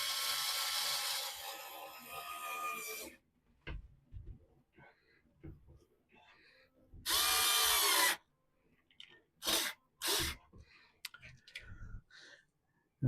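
A power screwdriver driving a 25mm screw on a model railway baseboard, with a few loud whirring bursts separated by quiet clicks and handling noises.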